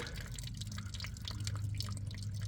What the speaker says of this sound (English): Just turn that over and we're draining just fine.